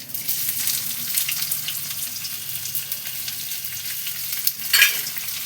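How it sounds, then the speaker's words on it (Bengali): Chopped onions fry in hot oil with whole spices in a pan for a prawn and pointed gourd pulao, a steady close sizzle with scraping stirs and a louder clatter near the end. "পেঁয়াজ কুচনোগুলো দিয়ে দিচ্ছি"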